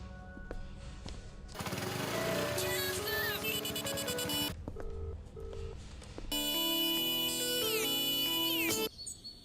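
An electronic phone ringtone plays a busy melody in two long bursts with a short pause between, loud and close, no talking.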